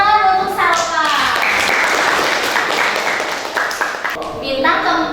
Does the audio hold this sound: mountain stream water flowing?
no